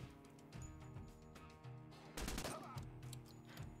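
Gunfire in the tactical video game Door Kickers 2: a sharp cluster of rapid shots crackles briefly midway over a steady musical background, followed by a few scattered reports, fairly faint overall.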